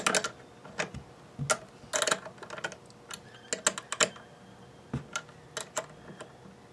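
Guitar tuner nuts on a partscaster body being snugged down with a 10mm open-end wrench, giving a run of close, irregular metallic clicks and ratchety ticks in short bursts, with no talking.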